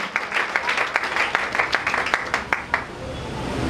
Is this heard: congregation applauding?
yes